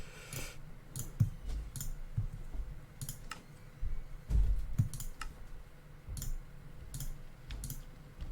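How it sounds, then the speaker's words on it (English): Mouse shift-clicking in Minecraft, heard as rapid light clicks in small clusters over a steady background hum, close and crisp. "I'm shift clicking, thank you."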